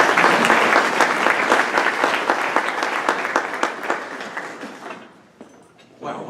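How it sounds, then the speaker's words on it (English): A large audience applauds Bill McCrary at a speaking event with dense, sustained clapping and a few sharp individual claps. It stays loud for several seconds, then fades away near the end. "have a nice round of applause for Bill McCrary"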